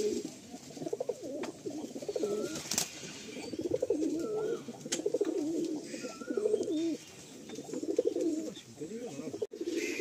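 Several pigeons coo repeatedly in a pigeon loft, with soft overlapping calls, an occasional wing flap and people talking in the background.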